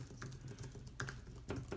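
Fast typing on a keyboard for an iPad Pro 10.5, with a steady run of soft key clicks and a few louder clacks at intervals, heard close and alone.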